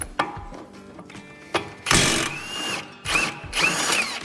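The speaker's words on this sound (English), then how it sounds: "let's go ahead and take off this caliper, 18mm" Wrench working an 18mm brake caliper bolt on a Chevy Equinox, a series of sharp metallic clicks and ratcheting bursts, close and fairly loud, with brief pauses between pulls.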